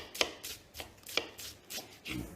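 A knife chops finely through onion on a board in a Bolognese preparation, giving a steady run of about five or six crisp, close strikes spaced roughly half a second apart, with no talking.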